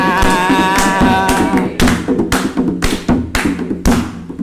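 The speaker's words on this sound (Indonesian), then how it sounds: "tepuk tangan sama-sama" An audience at a relaxed public talk with the regent of Penajam Paser Utara claps together over background music, close and loud, with the claps thickening into a series of sharp, uneven bursts.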